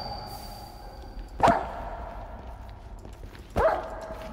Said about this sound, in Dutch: Er zit hier een hond ergens.